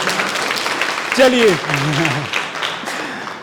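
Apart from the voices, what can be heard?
audience applause at a workshop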